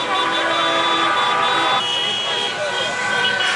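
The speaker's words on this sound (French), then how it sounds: "Ici, pas moyen d'échapper aux klaxons et autres 1, 2, 3, viva l'Algérie." Car horns honk continuously during street celebrations in Constantine, Algeria, with several sustained tones overlapping into a dense, loud blare that carries a crowd noise beneath it.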